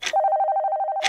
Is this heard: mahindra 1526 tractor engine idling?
no